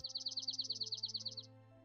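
A sparrow sings a rapid, evenly pulsed trill of about fifteen high notes over roughly a second and a half, then stops, with a faint steady hum beneath.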